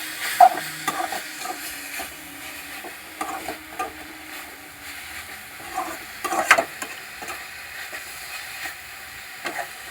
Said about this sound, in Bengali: তো বন্ধুরা দেখো আমার শাক ভাজি